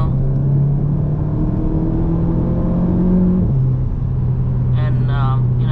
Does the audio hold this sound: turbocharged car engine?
yes